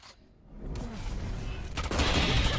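Gunfire from a Valorant match at the VCT 2024 APAC pro tournament, a burst of rapid shots layered under game noise and commentary, getting louder toward the end.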